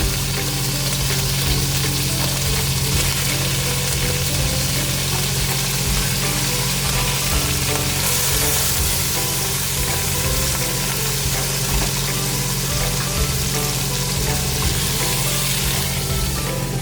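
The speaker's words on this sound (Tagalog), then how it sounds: "ito muna ang ating ipiprito" Food frying in a pan for a low-carb meal gives a loud, continuous sizzle and crackle, close and steady throughout, with no talking.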